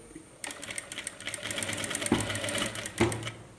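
An electric sewing machine stitching pleats on a pattupavada skirt, whirring in a fast rapid-fire run that builds after a quiet start, with two brief louder bumps near the end.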